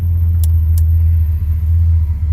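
A lowered one-ton truck with a long wheelbase drives along, its loud, steady low engine and road rumble filling the cab, with two brief clicks near the start.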